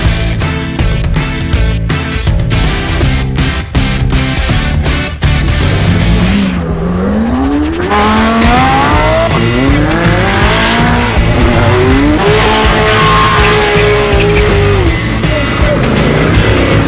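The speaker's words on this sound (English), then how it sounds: "I've seen and heard some of the most amazing and expensive cars in the world." Expensive supercars at Supercar Fest on an airport runway rev hard, with engine notes rising and falling in loud, sweeping pitch and a tyre squeal, all continuous over the whole stretch with no talking.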